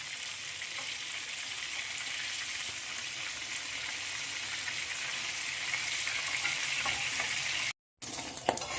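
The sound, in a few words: Bombay duck fish fritters frying on low gas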